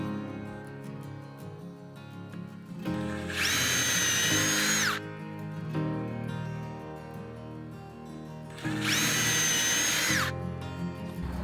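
A power drill drives screws during a home renovation, two separate loud high-pitched whirring bursts of about two seconds each, close by, with quiet room noise between them.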